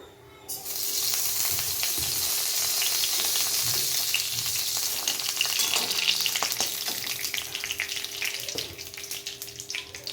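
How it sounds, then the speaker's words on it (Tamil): Mustard seeds spluttering and popping in hot oil as a tempering for brinjal sambar, a steady loud sizzle with scattered crackles running for about ten seconds, with no voices. "கடுகு வெடிக்கட்டும்."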